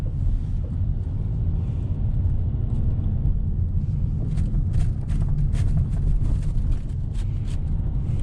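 Steady low rumble of a car driving slowly, with road and cabin noise throughout and some light rattling toward the end, no talking.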